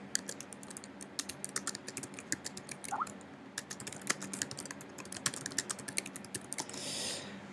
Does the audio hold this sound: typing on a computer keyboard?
yes